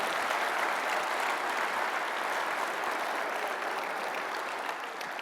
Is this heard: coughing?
no